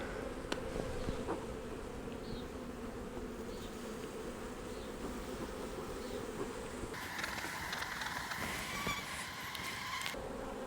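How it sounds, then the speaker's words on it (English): Honey bees swarm around a hive during a laying-worker follow-up with the screen removed, producing a dense, continuous buzzing drone close by that swells brighter and louder partway through. "Boy, we got a lot of bees out here."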